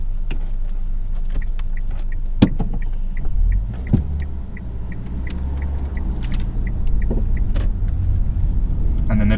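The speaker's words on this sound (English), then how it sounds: "drive on when you're ready" A car with a driving-test candidate at the wheel pulls away from the roadside after a stop, its steady engine rumble and low road noise filling the cabin, with a few small clicks and ticks inside.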